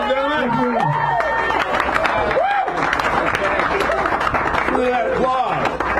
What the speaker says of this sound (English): Look at that applause